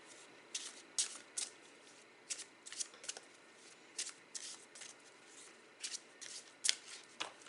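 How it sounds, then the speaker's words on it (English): A tarot card deck is shuffled and cut by hand, giving a run of quick crisp riffling bursts at irregular intervals, close and clear over a quiet background with no talking. "let me cut my deck"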